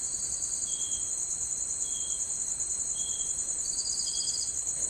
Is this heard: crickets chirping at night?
yes